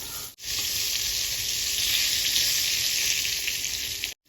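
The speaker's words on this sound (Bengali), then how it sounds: "বেগুনগুলো আমি ভালো করে উল্টে পাল্টে ভেজে নেব।" Eggplant pieces fry in a pan with a loud, steady sizzle that fills the clip, briefly cut off twice, with no talking.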